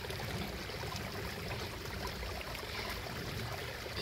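Water flowing along a small stream beside a canal, a faint, even rushing and trickling wash with no talk.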